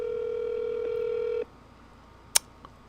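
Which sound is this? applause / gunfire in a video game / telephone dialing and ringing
telephone dialing and ringing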